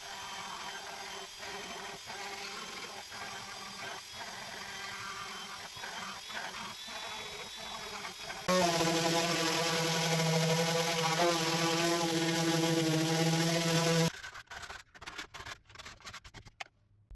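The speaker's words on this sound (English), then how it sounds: "we went over it all with the Dremel" Dremel rotary tool whines steadily as it smooths routed plywood, loud and continuous for several seconds, between quieter bursts of handling and tool noise before and after.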